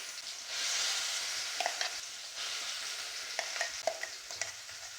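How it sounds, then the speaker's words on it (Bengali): Ground yardlong bean paste frying in hot oil with black cumin, a continuous soft sizzle with scraping stirring strokes close by in the pan. "কালো জিরেটা ভাজা হয়ে গেছে, এবার আমি এর মধ্যে দিয়ে দেব বেটে রাখা বরবটিটা।"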